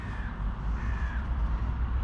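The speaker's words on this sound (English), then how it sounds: "the crows are there now. The crows are on top of the cat food." Crows caw steadily over cat food put out for feral cats, their calls clear above a constant low outdoor rumble, with no voices present.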